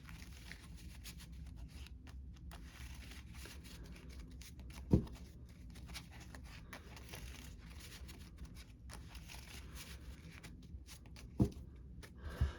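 Quiet, papery riffling of playing cards being shuffled, soft and continuous, with a few sharp taps as the deck is squared.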